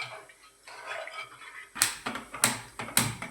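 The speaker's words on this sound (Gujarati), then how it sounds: "જો ગેસ સળગાવી દીધો." Three crisp clicks from a gas stove burner being lit for a pressure cooker of rice, evenly spaced after a stretch of soft low kitchen noise.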